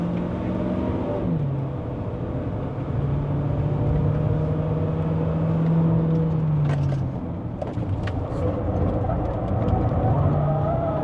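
A Jaecoo J7 AWD SUV pulls uphill in second gear on the road up to Genting, Malaysia. The engine drone dips, then holds a steady rising note, with faint cabin noises and clicks over the continuous road rumble.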